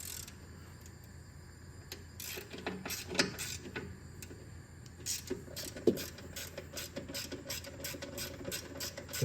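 A ratchet with a 10 mm socket loosens a bracket on a Corvette with an LT6 engine, giving quiet, irregular clicking bursts and a few sharper knocks against low background noise.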